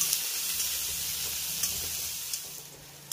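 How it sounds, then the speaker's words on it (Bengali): Chopped onion and garlic sizzle in a pan over the heat with a steady, moderate hiss, broken by a few soft clicks from a stirring utensil. "এবার পেঁয়াজ আর রসুনটাকে আমি হালকা করে একটু ভেজে নেব।"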